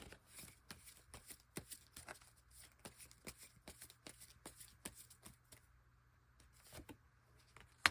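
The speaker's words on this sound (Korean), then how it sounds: "그러면 그리워하고 있는지, 얼마나 그리워하고 계시는지 그렇게 뽑아보도록 할게요." Tarot cards shuffled by hand for a reading, a steady run of soft riffling flutters and crisp taps, close and fairly quiet with no talking.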